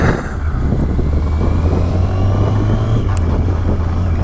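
A motorbike engine runs at a steady idle close by, a loud continuous low hum with an even drone throughout and a brief faint tick near the end.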